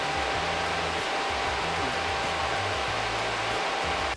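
A Llano V12 laptop cooler runs its fans at 2800 RPM, making a loud, steady, close rushing whoosh with a low droning hum underneath and no pauses.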